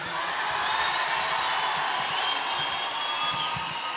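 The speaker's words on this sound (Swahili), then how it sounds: "Pigia gavana makofi tena." Crowd at a JCM church event cheering and applauding for the governor, a steady dense roar of many voices and claps sustained evenly throughout at moderate loudness.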